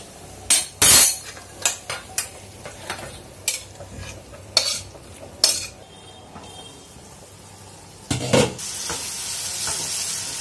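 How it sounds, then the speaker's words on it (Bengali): Spice masala being sautéed for a curry in a home Bengali kitchen: a utensil repeatedly scrapes and knocks against the pan in irregular bursts over a soft background sizzle, close and clear, with no talking. "মশলাটাকে কষিয়ে নিলাম আর একটু কষাবো"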